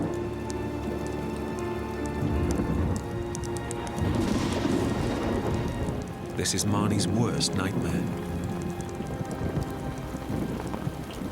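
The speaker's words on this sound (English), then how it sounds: "Once it started raining," Heavy rain pours steadily in a storm with a low rumble of thunder, a constant dense hiss of drops on surfaces, loud and close, while a voice speaks briefly over it.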